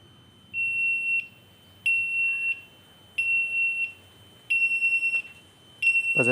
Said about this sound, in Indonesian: kita akan menunggu sampai buzzer di kamar kapten dan mushroom menyala